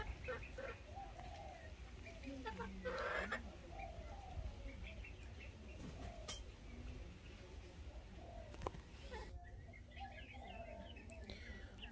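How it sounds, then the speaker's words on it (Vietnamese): Five-month-old Polish crested chickens give faint, scattered clucks and short chirps over a quiet, steady outdoor background, with soft distant voices now and then. "gà rất là đẹp"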